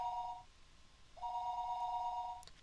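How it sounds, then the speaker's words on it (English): A telephone rings in the video game Higurashi When They Cry: two steady electronic ring bursts separated by a short pause, clear and fairly loud, with no talking. "The phone rang, and I didn't know where the call was coming from."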